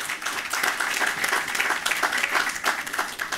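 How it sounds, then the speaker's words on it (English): Crowd applause at an outdoor lights switch-on event at a recreation grounds: brisk, sustained clapping from many hands, even and close throughout. "Give him a round of applause."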